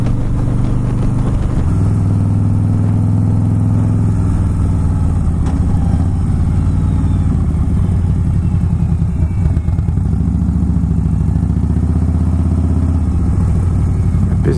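Harley-Davidson Fat Boy S V-twin sitting at idle, a loud steady low rumble that stays close and continuous throughout, with faint background clatter and no voices.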